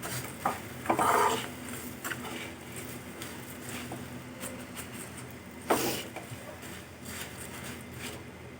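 Peanuts and roasted chickpeas for green chilli chivda are tossed and sautéed in a pan, with intermittent spoon scrapes, clinks against metal and a faint sizzle, close by.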